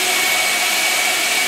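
An RSD high filtration dust extraction system runs loud and close, a steady rushing whine like a vacuum motor with a constant airy hiss and no pauses.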